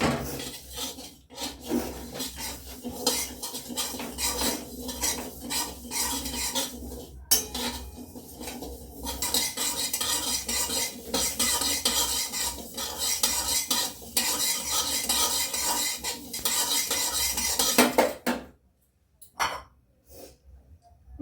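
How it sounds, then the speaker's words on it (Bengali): A spoon or spatula scrapes and stirs broken wheat (dalia) as it dry-roasts in a hot pan with no oil, a busy rhythmic rasping and clatter that runs close up before stopping near the end. "ডালিয়াটা একটু ভেজে নিব, কাঠখোলায় ভেজে নেব,"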